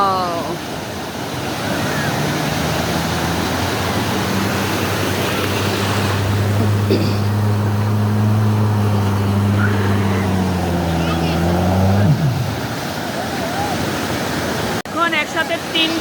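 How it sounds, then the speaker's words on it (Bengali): Sea waves breaking on Laboni beach at Cox's Bazar at dawn, a steady, loud roar of surf that holds nearly unbroken throughout, with a low humming drone running beneath the wash. "তিনটা করে জোয়ার আসছে জোয়ার আসছে তিনটা করে ঢেউ আসছে"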